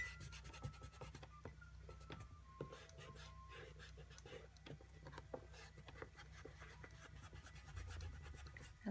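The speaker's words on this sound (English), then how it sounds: "So now I'm going to get an eraser." A kneaded eraser rubs across paper during a watercolor artwork, making soft, faint repeated scratchy strokes close up over a low steady background hum.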